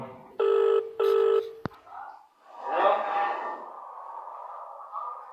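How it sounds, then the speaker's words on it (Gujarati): A phone call rings out through the handset: two steady ringback tones, a sharp click as the line connects, then a voice talking on the call. "આપણે ફોન કરી દીધો હોય"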